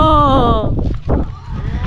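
Wind gusting across a hillside cemetery on a mountain, a steady low rumble of buffeting against the microphone that blends with a brief tonal call at the start.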